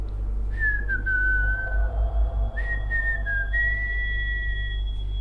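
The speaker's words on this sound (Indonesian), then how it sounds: "Terdengar seperti ada orang mandi, mandinya sambil siul-siul." Someone whistles a slow, wavering tune in a few drawn-out notes while bathing at 11 at night, clear and fairly close over a low steady hum.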